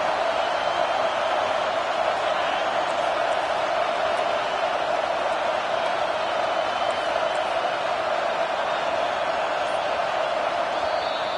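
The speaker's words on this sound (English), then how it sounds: "This crowd bringing the energy and noise early." Alabama vs Penn State football stadium crowd roaring loud and steady for the whole stretch, a dense unbroken wall of cheering noise with no pauses.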